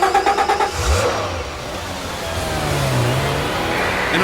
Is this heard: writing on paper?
no